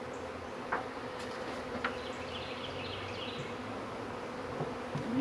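Honeybees from newly installed packages buzz steadily while being hived, a dense close drone of many wings with occasional louder passes near the ear and no talk.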